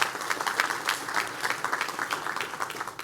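Applause from an audience at a DeKalb County gathering, greeting the district attorney as she is introduced: a steady, dense patter of many hands clapping, moderately loud and continuous throughout, with no voices over it.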